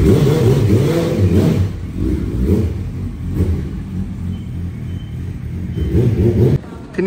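A Yamaha R1 sport motorcycle engine revs in repeated bursts, a loud throaty mid-range roar rising and falling close by, with no speech.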